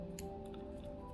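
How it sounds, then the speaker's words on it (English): Small scissors snip excess thread while a salmon fly is tied at a vise, giving a couple of quick, faint, close clicks over a steady low background hum. "And then we'll cut all that excess off."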